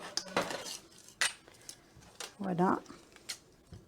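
Scissors snip through fabric for a cushion cover in short, close cuts with a brief louder rasping stretch, separated by pauses, while a person talks briefly.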